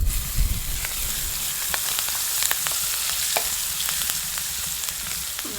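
Green chillies dropped into semolina frying in a pan, a close, continuous crackling sizzle with light scraping stirs and occasional sharp pops, no one talking.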